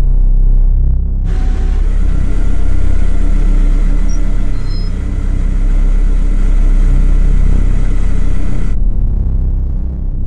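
LMP2, LMP3 and GTE race cars head out onto hot Paul Ricard asphalt, a deep steady engine rumble and low idling drone filling the air throughout, loud and continuous with no talk.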